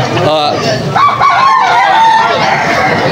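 A young rooster (stag) at a busy Sunday market in Malolos, Bulacan, giving loud, close, strained honking calls over crowd noise and background chatter.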